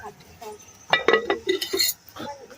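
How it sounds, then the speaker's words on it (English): A lid clinks down onto a pot of rice being set to cook over an outdoor backyard fire, giving a few bright metallic clinks and clatters close by, mixed in with someone talking. "So I'll cover up this and make it go and cook."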